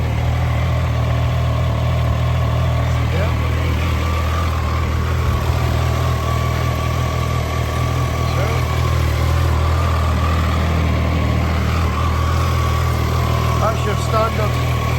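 2021 Triumph Trident 660 motorcycle warming up at idle, a steady low engine hum running throughout while someone talks over it.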